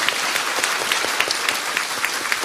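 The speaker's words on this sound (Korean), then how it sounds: "박수 한번 보내주세요." An audience at a political party academy lecture claps continuously in steady, dense applause, close and fairly loud, with no voices heard.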